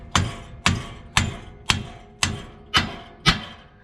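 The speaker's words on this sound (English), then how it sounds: "smack the spindle till it comes loose." Hammer striking a Toyota Tacoma truck's steering spindle to knock the ball joint loose during an upper control arm install: six loud, evenly spaced metallic blows about half a second apart, each ringing briefly.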